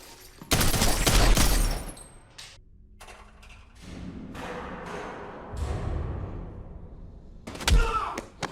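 Gunshots ring out from the action film John Wick: Chapter 3 as it plays: a loud, dense burst of firing near the start, quieter thuds and mechanisms in between, and another sharp shot near the end, with brief viewer reactions.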